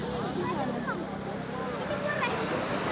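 A boat engine drones steadily at sea during a sailboat race, a low continuous hum beneath wind and water noise, with a voice talking over it.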